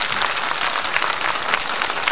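An audience applauding at a stage performance, dense and steady clapping that fills the whole moment.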